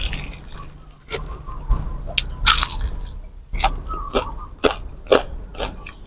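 Crispy fried pork belly coated in batter and fried with fish sauce crunches as it is bitten and chewed close to the mic, in several sharp bites with softer chewing between them.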